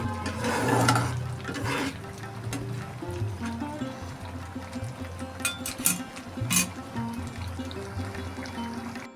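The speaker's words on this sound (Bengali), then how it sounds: "দিয়ে আবারও একটুখানি আমি নাড়িয়ে চাড়িয়ে দিচ্ছি" Jute leaf and pea lentil dal stirred in a pan, giving soft wet scraping and bubbling in a steady cooking bed, with a few sharper clinks of the spoon against the pan near the end.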